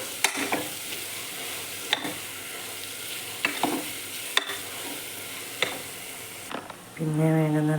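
Chili powder mixture being stirred into chicken curry in a pan: a low sizzle under repeated scraping strokes and sharp utensil clinks against the pan, close, ending in a louder patch of hum.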